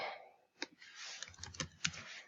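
Quiet typing on a computer keyboard: a quick run of light, close key clicks with uneven rhythm and no talking.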